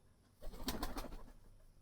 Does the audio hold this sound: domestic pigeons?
yes